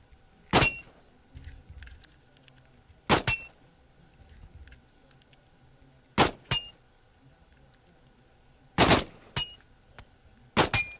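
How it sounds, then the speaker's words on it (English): Gunshots ring out at a shooting gallery in the PSVR game Out of Ammo, with five sharp, loud bursts spaced a few seconds apart, each followed by a brief metallic ring from the struck targets. "I just like standing out here and shooting the targets."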